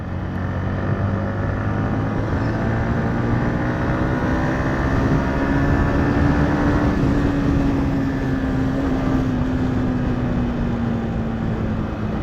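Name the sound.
riding a Yamaha MT-15 motorcycle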